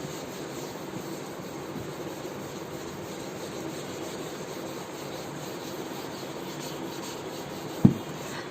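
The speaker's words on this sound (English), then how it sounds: "Now rub the board." A board being rubbed or wiped with a steady, soft scraping hiss that runs continuously at a low level, ending with one brief knock.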